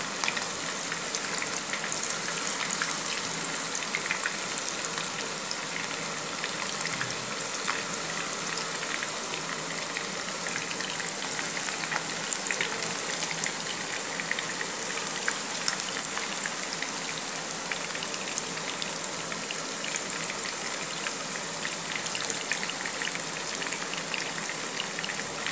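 Squid pieces fry in hot oil with a dense, steady crackling sizzle that runs unbroken and fairly close throughout, with no one speaking.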